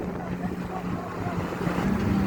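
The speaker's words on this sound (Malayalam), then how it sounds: "ഇവിടെ നല്ല തിര വരുന്നുണ്ട് കേട്ടോ." Sea waves wash in at Dubai Marina Beach JBR, a broad, steady surf roar mixed with wind buffeting the microphone, with a faint low engine hum from a boat running underneath.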